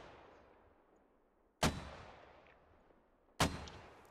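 Two sharp mortar launches in the Squad game, spaced about two seconds apart, each a loud crack with a decaying rumble over a quiet background.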